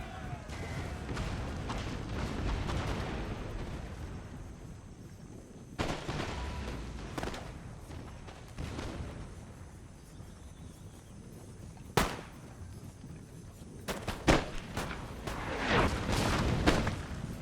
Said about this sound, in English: the Continentals are also taking sustained artillery fire